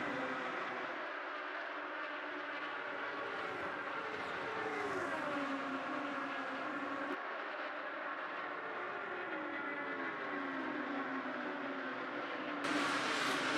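IndyCar race cars run through turn one at the Indianapolis 500 during practice, their engines a high, steady whine with a faint rise and fall as cars pass, distant and alone.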